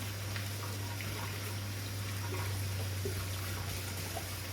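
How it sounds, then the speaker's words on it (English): Banana peppers rinsed under a running tap, a steady close wash of water with a constant low hum beneath it and no talk. "I'm going to come in with these and I'm going to rinse them off really good"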